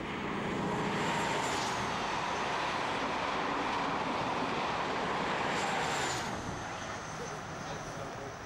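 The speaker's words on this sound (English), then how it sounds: "The train that used to cross the channel meets the train that now goes under the channel." A British mainline train, a cross-channel service meeting another, passes with a broad continuous rumble and hiss, steady and fairly loud, with faint high squeals near the start and around six seconds.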